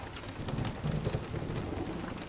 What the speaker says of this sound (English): Sense the swirls of the rain and wind cleansing you into a more peaceful state. Be one with the storm